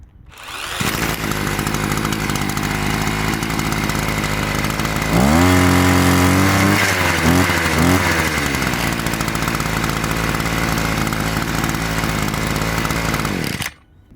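A Parkside PPBS 3 A1 petrol brush cutter starts and runs loud and close, a steady high two-stroke whine with several sharp throttle blips in the middle, then cuts off abruptly at the end.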